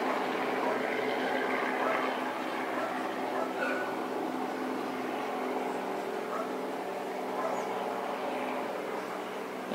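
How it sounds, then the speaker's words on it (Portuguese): Helicopters fly over a car accident scene on M'Boi Mirim road, making a steady, distant droning hum that carries unbroken through the whole stretch. "Helicópteros sobrevoam."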